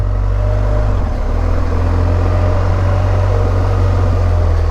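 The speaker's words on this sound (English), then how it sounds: "You hear the valve train noise, but that, welcome to the world of a boxer." A freshly rebuilt BMW GS motorcycle's boxer engine idles close by, a steady low thrumming throb with a light mechanical valve-train clatter and faint whistle on top, running evenly without revs or voices.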